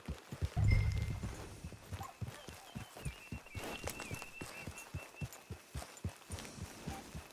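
Horse hooves clip-clop in Red Dead Redemption 2 at a steady walking rhythm, each step clear and fairly close. A heavy low thump comes near the start, and a faint tonal game sound runs in the background.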